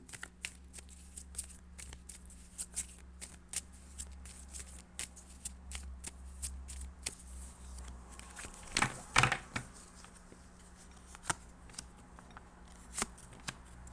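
Tarot cards being shuffled close up: a steady run of crisp, papery riffles and snaps, with a louder flurry partway through, no talking.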